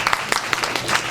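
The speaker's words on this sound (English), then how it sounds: "So let's give ourselves a big hand of applause." Audience at a community gathering clapping for themselves, a brief burst of loose, uneven hand claps with a few sharper individual claps standing out.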